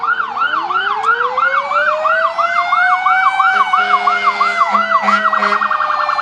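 A rescue vehicle from Clarksburg sounds a rapid wailing siren in a fall foliage festival parade, loud and close, with a horn-like tone and low rumble joining near the end.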